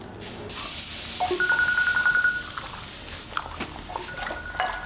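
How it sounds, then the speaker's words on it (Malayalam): A mobile phone rings at home, a steady broadband ringtone with a bright repeating tone pattern that starts after a short silence and carries on loudly throughout, with no talking. "എന്റെ ഫോൺ അടിക്കുന്നു."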